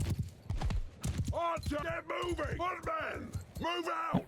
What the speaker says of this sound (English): Horse archers are coming through.